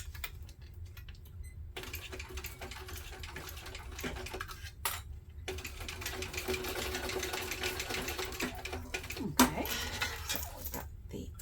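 A sewing machine stitches backpack parts in a steady, busy run of rapid needle clatter, close and fairly loud, with a couple of brief pauses and small clicks from handling the fabric.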